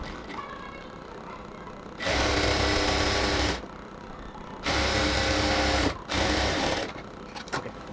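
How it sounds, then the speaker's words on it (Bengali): Sewing machine stitching fabric for a pillow cover, running in two steady, loud bursts of a few seconds each, with quiet pauses between and a few brief clicks toward the end. "একটা পার্টকে আমরা সেলাই করে নেব, যেহেতু এই পাশটাও খোলা থাকবে।"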